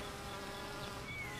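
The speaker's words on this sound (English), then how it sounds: "Thousands of female bees, called worker bees, live together in a hive with a queen bee." Honey bees hum and buzz steadily around a hive, a dense continuous drone of many insects with no pauses and no voices.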